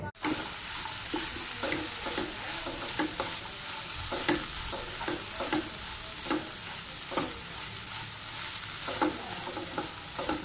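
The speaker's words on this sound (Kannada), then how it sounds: "ಎಲ್ಲ ಚೆನ್ನಾಗಿ ಕುದೀತಾ ಇದೆ" Fish curry boils in a pot with a steady, dense bubbling hiss and small pops that carry on evenly throughout, close by and unaccompanied by speech.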